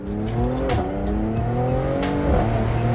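A Renntech-tuned Mercedes-AMG C43 accelerates hard, its engine note rising loud and close with quick gear-change dips and a continuous roaring drone.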